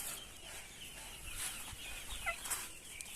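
Day-old quail chicks in a winter brooder give faint, high chirps and peeps at a distance over a quiet background hiss.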